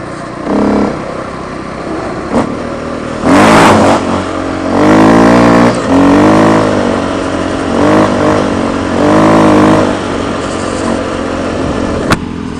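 KTM 530 EXC-R dirt bike with its single-cylinder engine at idle, then several loud, separate throttle blips and revs rising and falling in bursts, close by with no one talking.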